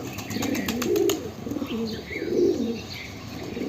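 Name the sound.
pigeon cooing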